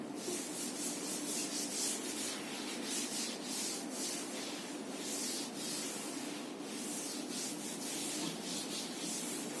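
A classroom board is wiped clean of writing, a steady, continuous scratchy rubbing with slight rhythmic strokes that runs for several seconds, close and alone without any voices.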